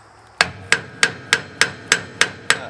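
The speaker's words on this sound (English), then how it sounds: "I'm going to try to knock these washers out." A hammer strikes a Bren Gun Carrier rear drive hub to knock the washers out, eight sharp metallic blows in a steady even rhythm, loud and close with short ringing decays.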